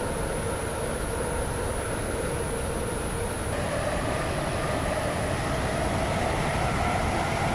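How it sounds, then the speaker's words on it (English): Steady rumble of a WaterLine train running in a video game, a continuous rail drone with faint high whine, constant and alone throughout. "Welcome aboard this WaterLine train to Newry."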